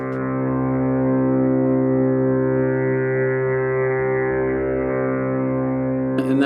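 Sustained tanpura drone, the Indian classical accompanying instrument, with rich layered harmonics holding steady and loud throughout, with a brief noise at the very end.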